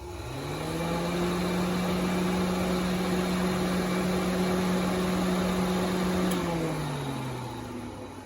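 A two-speed electric radiator fan from a Volvo, fitted to an LS engine swap, runs at its low setting. It gives a steady, even whirring hum that spins up at the start and winds down near the end, with no talking over it.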